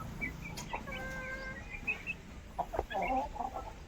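Chickens cluck faintly at a distance, with scattered soft calls and a short burst of busier clucking near the end over a low background hum.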